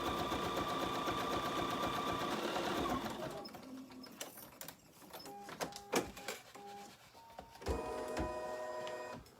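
An embroidery machine stitching white thread runs in a steady, close mechanical whir for a few seconds, then slows into scattered clicks and short bursts before starting up again.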